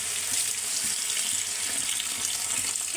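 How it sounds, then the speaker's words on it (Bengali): Broth poured into colocasia curry cooking in a pan makes a steady, continuous watery rush, fairly close and unbroken, with no talking. "এখন হচ্ছে ঝোল দিয়ে দেব"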